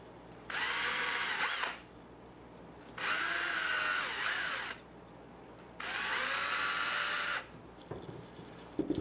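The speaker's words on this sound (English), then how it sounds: "just drill into them to get the excess off" A power drill bores out excess plastic from holes in a 3D-printed case for an Atari Jaguar Skunkboard, in three separate loud whirring bursts of one to two seconds each, with brief quiet gaps between them and a few faint clicks at the end.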